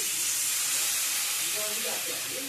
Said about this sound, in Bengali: আমি একটু কড়াইতে জল দিয়ে দিচ্ছি